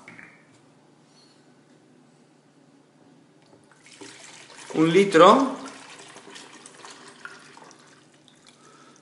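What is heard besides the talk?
pouring hot water onto Ganoderma coffee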